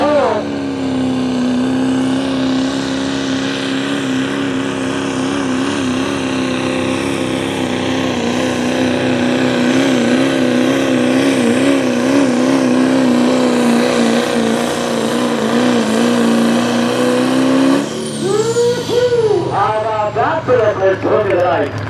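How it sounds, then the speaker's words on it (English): A Pro Street diesel pulling truck strains down the sled track at a Western PA pulling event, its engine a loud sustained drone that shifts sharply near the end; an announcer talks over it throughout. "the first truck in this division. This is your Grove Street diesel truck"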